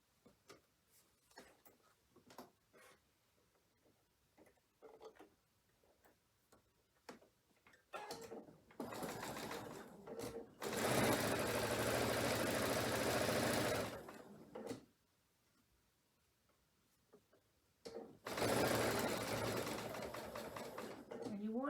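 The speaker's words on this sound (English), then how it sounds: "let's get this last seam sewn." A sewing machine runs close and loud while stitching the last seam of diamond quilt blocks, in two sustained bursts of whirring with quieter ticking and handling noise between them.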